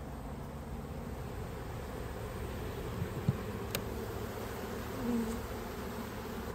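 A steady, low buzz of many bees in an open hive being fed syrup fills the air, continuous and fairly close, with a few brief louder passes.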